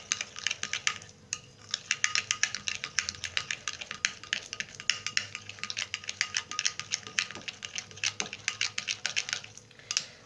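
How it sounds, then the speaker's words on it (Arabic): A homemade collagen face cream mixture being stirred hard in a bowl, a close, fast run of soft clicks and wet taps from the utensil, steady and rhythmic throughout. "هتقلبي كويس قوي قوي قوي قوي، متأكدة ان الخليط خالص يعني اتمزج مع بعضه"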